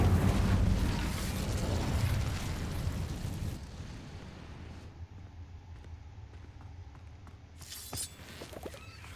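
A fire spell cast in Hogwarts Legacy erupts as a loud rushing, roaring burst of flame that fades into a quieter crackle and game ambience, with a sharp magical flare near the end; no talking.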